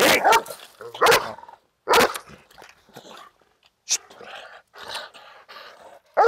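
An American Staffordshire terrier barks at a dog training centre, letting out loud, close bursts of barking separated by short pauses, with a few softer yips between them.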